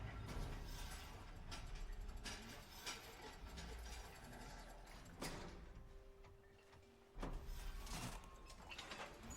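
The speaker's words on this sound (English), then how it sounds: "I forgot how far down this damn elevator goes." An elevator in the video game Horizon Zero Dawn descends with a low, continuous mechanical rumble and faint clicking, punctuated by a few heavier clunks along the way, all quiet and with no talking.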